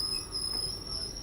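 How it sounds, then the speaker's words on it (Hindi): A train, the Howrah–Pune Azad Hind Express, pulls out of Howrah railway station at night, its wheels letting out a steady, high metallic squeal over a low rumbling rail bed. "10:10 पे बिल्कुल शार्प ट्रेन जो है हावड़ा रेलवे स्टेशन से निकल रही है"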